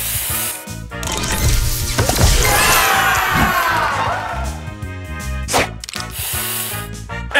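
A spray booster effect from the Match Masters mobile puzzle game gives a hissing, swooshing burst with swirling chimes over steady, upbeat game music.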